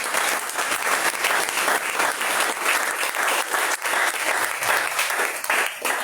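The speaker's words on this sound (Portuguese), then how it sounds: "Vamos receber o nosso pastor Louvando a Jesus com salve de palmas" A congregation at a deliverance church service gives its pastor a dense, sustained round of applause, loud and unbroken from start to finish, with crowd murmur blended in.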